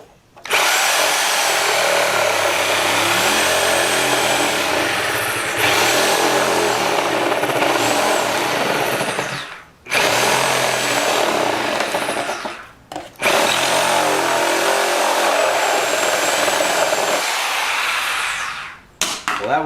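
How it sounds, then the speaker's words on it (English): A Sawzall cuts straight across the plastic rear fender of a Honda Sabre motorcycle, loud, close and continuous buzzing reciprocating bursts separated by two brief pauses, ending with a short restart. "I'm going to take the Sawzall and just cut it off straight across here"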